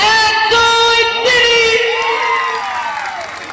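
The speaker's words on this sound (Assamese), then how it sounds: "প্ৰথমটো হাত চাপৰি মই ল'লোঁ আপোনালোকৰ পৰা আশীৰ্বাদ স্বৰূপে" A crowd at a Bihu function claps and cheers loudly all at once, with bright shouts and whoops on top that fade over a few seconds.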